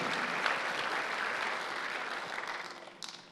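Congregation at a Sunday worship service applauds in the sanctuary, a steady crowd clapping that gradually softens, with a few sharper scattered claps near the end.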